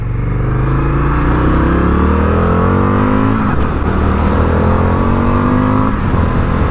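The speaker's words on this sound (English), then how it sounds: "just the sound that Akrapovic exhaust makes" Indian FTR 1200 motorcycle with an Akrapovic exhaust, loud and close, revving up through the gears with rising engine pitch, two brief drops at the shifts before climbing again, no talking.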